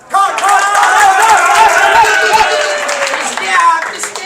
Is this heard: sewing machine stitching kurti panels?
no